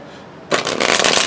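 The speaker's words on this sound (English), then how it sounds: "I'm trying not to shuffle on the table and mess them up, but shuffling on my leg is not working right now" A deck of tarot cards is shuffled by hand against a leg, a close, quick riffling flutter lasting under a second after a brief quiet start.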